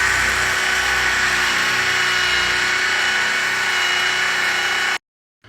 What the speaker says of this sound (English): we will then grab our 1 inch spade bit and we will drill right through that hole